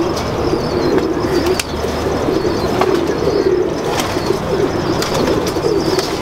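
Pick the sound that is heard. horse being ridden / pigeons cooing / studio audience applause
pigeons cooing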